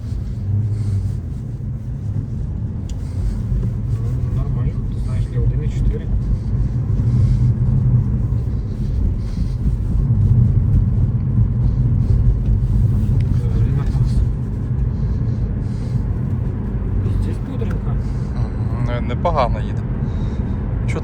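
A Kia Ceed with a 1.4 engine cruises along a highway, its engine and road rumble a steady loud low drone heard from inside the cabin, with people talking over it.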